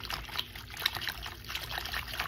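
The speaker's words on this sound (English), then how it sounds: "now I'm gonna pour the sauce here" Sauce of hot water, chicken stock, tomato paste and spices poured into a pot of stuffed grape leaves and courgettes, a quiet continuous trickling and splashing stream lasting a couple of seconds with no talking.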